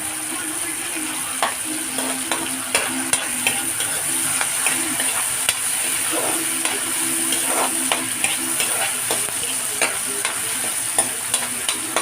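Milkfish (bangus) sautéing in a pan for sinigang sa miso, a steady hissing sizzle with scattered sharp pops and faint spatula scrapes, fairly close and continuous throughout, with no one talking.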